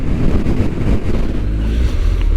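Strong wind buffets and roars continuously across the microphone while riding a Kawasaki ZZR1400 motorcycle, a loud, steady rushing noise with low rumble and no talking.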